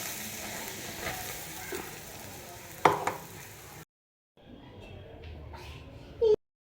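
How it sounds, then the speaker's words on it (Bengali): Dal fries in oil with cumin and mixed spices, making a soft steady sizzle. A sharp clatter comes near the middle, the sound cuts out briefly, and the frying then resumes before an abrupt end. "এবার এর মধ্যে একটু জিরে দিয়ে দেবো, দিয়ে সব রকম একটু মশলা দিয়ে একটু ভেজে নেব ডালটাকে"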